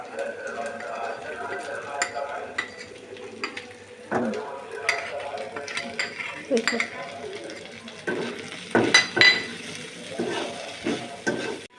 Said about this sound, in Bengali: হরিমের মশলা আর আর কিছু আদা বাটা এখানে দিয়ে আমরা কিছুক্ষণ নেড়ে নেব